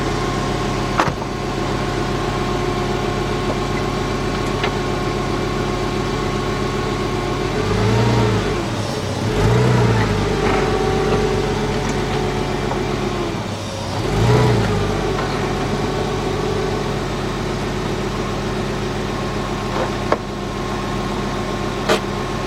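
A 1999 Porsche Boxster with a hard brake pedal, engine running steadily at close range with a loud continuous hum, rising into several smooth revs and easing back to idle.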